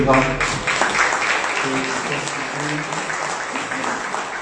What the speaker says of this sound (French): Je vous demande donc d'applaudir.